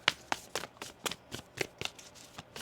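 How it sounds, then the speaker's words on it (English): Tarot cards are shuffled on a table in a run of about ten crisp riffling bursts, evenly spaced and close, with no talking. "One more shuffle here."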